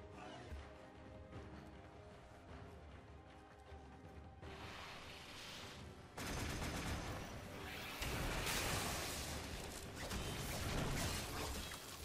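Warframe wave-defense gameplay with dense, loud bursts of explosions and rapid gunfire, intensifying in the second half into a continuous barrage of blasts and clattering mechanical weapon noise.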